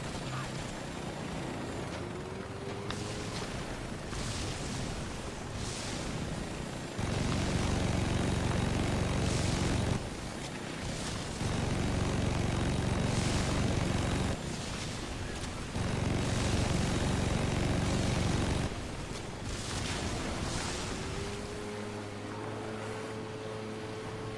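Helicopter in a shooter video game, a loud continuous engine and rotor drone that swells and dips in long sections alongside gunfire-like bursts, with no one speaking.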